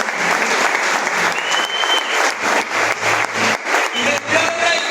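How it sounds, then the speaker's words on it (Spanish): A church congregation applauds in sustained, loud clapping that rises and dips in waves, with faint voices under the applause. "Denle un aplauso a Dios."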